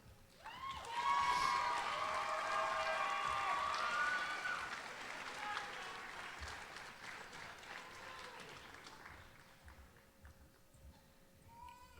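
An audience at a JROTC annual awards ceremony gives cadets a sustained round of applause that swells early and then slowly thins, with cheering voices and whistles mixed into the clapping.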